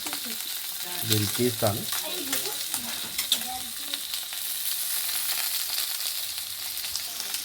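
Fish frying in hot oil until golden, a steady crackling sizzle running throughout, with a brief clatter of stirring or lifting the fish early on and a voice speaking over it.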